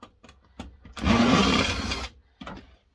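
Electric screwdriver or drill backing screws out of a hi-fi unit in a cold shed workshop: a single loud whirring burst of about a second, framed by short clicks and handling knocks.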